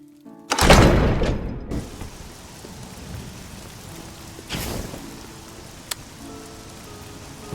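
Rain and rolling thunder in the Oblivion video game: a loud thunder crack near the start, a second rumble midway, and a sharp click, all over a continuous patter of falling rain.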